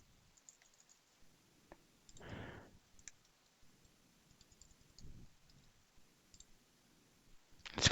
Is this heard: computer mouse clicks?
yes